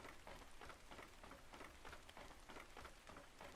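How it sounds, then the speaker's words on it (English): Steady rain falls in the survival video game Ark Survival Ascended, a dense, even hiss of drops hitting surfaces that runs unbroken throughout with no voices. "apparently it's raining right now, so everything is a bit wet"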